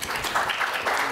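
Audience applause at a conference forum, a brief dense patter of many hands clapping at moderate distance, with no voices over it.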